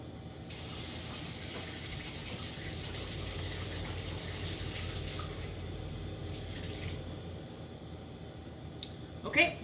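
Water runs steadily from a tap for several seconds, a soft continuous splash, then stops with a brief clatter at the end.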